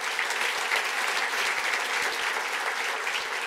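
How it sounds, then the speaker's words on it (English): An audience at an awards ceremony claps steadily, producing a dense, even patter of applause for several seconds with no voice over it. "Give her a round of applause."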